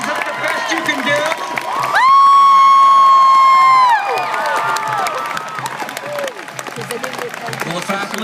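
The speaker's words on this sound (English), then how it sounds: "giving them a big round of applause" Graduating seniors at a 2014 Guilford College commencement cheer and applaud loudly, whoops and shouts over a bed of clapping, with one long, high sustained yell rising above the crowd midway.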